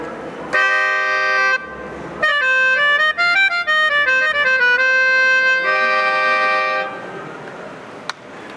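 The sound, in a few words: melodica being played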